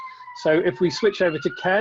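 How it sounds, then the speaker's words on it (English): A police siren wails steadily in the background behind someone speaking close to the microphone on a video call. "sorry about the siren going on in the background."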